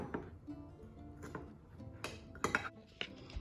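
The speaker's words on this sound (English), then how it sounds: "stir my ingredients one more time before adding in my baking pan" A utensil stirs vegan apple custard ingredients in a bowl, giving quiet scraping and a few sharp clinks against the bowl, louder near the end.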